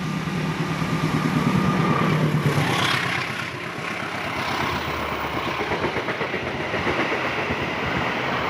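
The Ijen Express train between Malang and Ketapang, Indonesia, rolls steadily along the rails, with a continuous rumbling roar and faint rhythmic clatter of wheels, close and fairly loud throughout.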